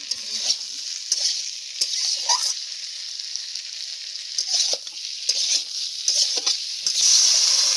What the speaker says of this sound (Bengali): এর মধ্যে ভেজে রাখা আলুগুলো দিয়ে আরো কিছুক্ষণ নাড়িয়ে নিল